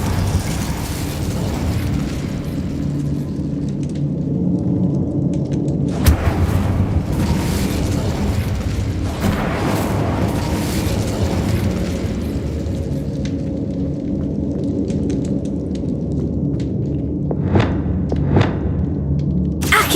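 Incendio fire spells go off in Hogwarts Legacy, a dense rumble of bursting, whooshing impacts with sharper flare-ups scattered throughout, loud and continuous over twenty seconds of game noise.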